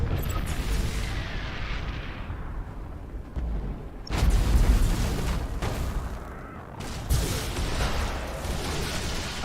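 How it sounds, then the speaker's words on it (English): Mines detonate one after another in the space-fleet game Battlefleet Gothic Armada 2: booming blasts land near 4 and 7 seconds over a continuous rumbling, crackling roar, with no talking. "Tell them to detonate the mines. That explosion should clean our tails of these traitors."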